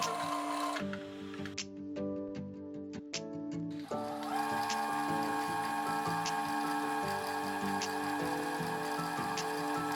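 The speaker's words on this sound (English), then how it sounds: "Thread the bobbin and put it on the bobbin winding shaft." A sewing machine, a FEIYUE FYe390, winds a bobbin with a steady mechanical whir and faint rhythmic ticking, pausing briefly with a few clicks before continuing at a constant hum.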